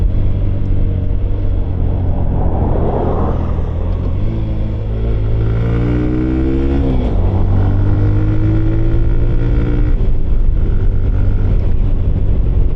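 Hero Glamour X125 motorcycle riding in eco mode, a steady loud engine drone with rising and falling pitch as it accelerates, continuous throughout with strong wind and road rumble and no talk.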